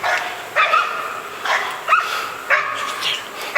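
Hunting dogs bark at a bear in the taiga, giving four sharp, fairly close barks in a quick, uneven rhythm, with no talk between them.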